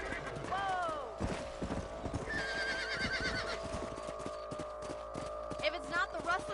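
Horse in the Red Dead Redemption video game whinnying and neighing with clip-clopping hooves, layered over game music and ambience, with voices speaking in places.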